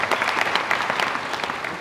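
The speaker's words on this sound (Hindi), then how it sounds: "आप लोग भी तो ताली बजा ही रहे हो।" An audience at a Gavishti Yatra cow-protection rally in Greater Noida West claps steadily, a dense, continuous patter of many hands with no pause.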